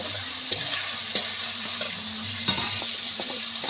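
Onion and tomato frying in a pan with a steady close sizzle, broken by a few sharp clicks as a spoon stirs and scrapes, for white eggplant cooked with egg.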